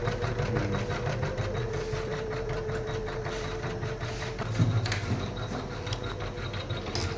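A digital embroidery machine for cloth designs, costing over one lakh, stitches flowers in green thread, giving a steady, continuous mechanical whirring and rapid needle chatter that never lets up.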